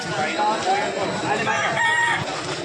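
A rooster crows amid the clucking of many fowl at a busy chicken market, with overlapping crowd voices in the background.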